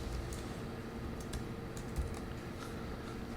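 Typing on a computer keyboard during a software install: a steady stream of soft, close key clicks over a constant hum of background noise, with no speech.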